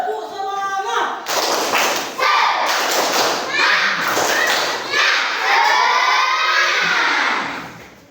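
Classroom of children doing a rhythmic spirit clap, with bursts of clapping and thumps mixed with loud shouting and chanting voices, an adult voice leading at the start, all close and lively.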